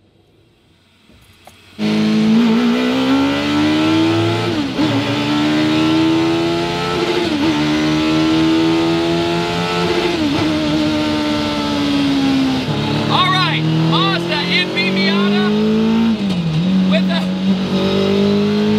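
A Mazda Miata fitted with a Suzuki Hayabusa motorcycle engine starts loud and close, then climbs through repeated rising revs with brief dips at each gear change, a high-pitched engine scream heard from inside the car.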